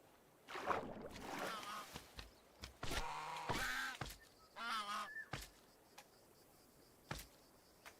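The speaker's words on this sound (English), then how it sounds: "The geese is hitting it. The goose is hitting it back." Geese in the video game Society: Sunlit Valley honk and scuffle in several harsh, nasal squawks with scattered thuds, fairly close and separated by brief pauses.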